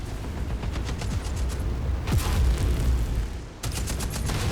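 Loud, continuous weapons fire in the MechWarrior 5 video game as a mech pounds artillery batteries, a dense roar of rapid shots and booms that briefly dips before resuming.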